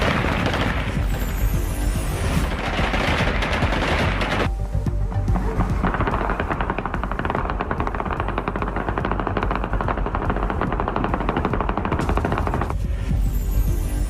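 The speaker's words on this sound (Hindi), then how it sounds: "काबुल एयरपोर्ट के बाहर बंदूकधारियों ने की हवाई फायरिंग।" Celebratory gunfire shot into the air outside Kabul airport, with dense, continuous automatic bursts and heavy booming rounds that roll on for the whole stretch, loud and overlapping, with no voices.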